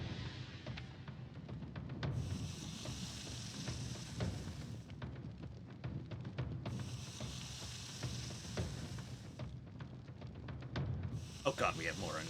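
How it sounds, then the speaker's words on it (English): Onions roasting in a pan in the game Dave the Diver, with a steady hissing sizzle that swells and fades in repeated waves under quiet background music. "Roast the onions."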